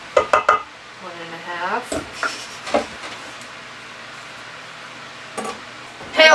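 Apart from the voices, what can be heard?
mixing cookie dough in a bowl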